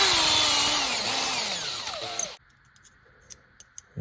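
A power drill drives a bit through a small rod-sized hole in a Losi Lasernut RC truck part, whining loudly and falling in pitch as it bogs through, then stopping, followed by a few quiet clicks and taps.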